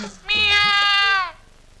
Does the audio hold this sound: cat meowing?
yes